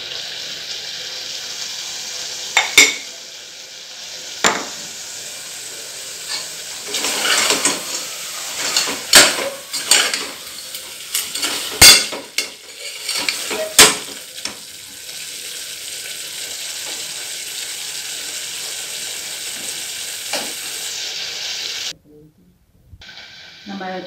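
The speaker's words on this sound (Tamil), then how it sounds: "நல்லா வதக்கலாம்." Chicken and chili sauté in hot oil for a home-style curd chicken, a loud continuous sizzle broken by repeated sharp clanks and scrapes of a spatula stirring the pan. The sizzle cuts off abruptly near the end.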